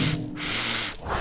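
Water churning and ripping through the pillar of a glass pivot bong during a hard hit, a close, steady bubbling hiss with a brief dip partway through.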